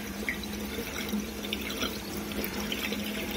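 Aquarium tank overflows gurgle and suck with a steady, low, watery churn and small bubbling pops, fairly faint and continuous with no voices.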